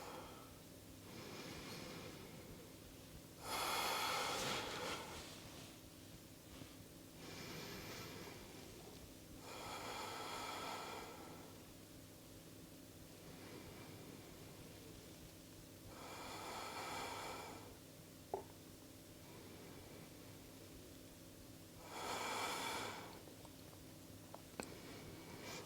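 Deep, slow yoga breaths during an advanced vinyasa flow, each long inhale and exhale coming as a soft airy rush at regular intervals several seconds apart, close and quiet against a faint background hum.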